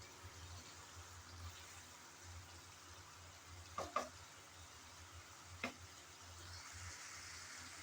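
Okra is added to spices and prawns frying in a pan, giving a faint, steady sizzle with two brief stirring clatters near the middle and no talking.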